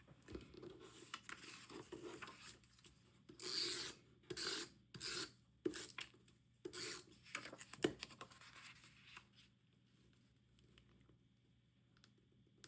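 Tape pulled and pressed down onto the pages of a handmade traveler's notebook dashboard, heard as a run of rasping, rubbing bursts in quick succession, fairly close and fading into quiet near the end.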